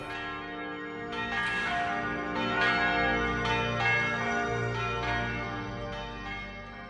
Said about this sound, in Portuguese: é a harmonia sacral do sino que protesta e que desce do alto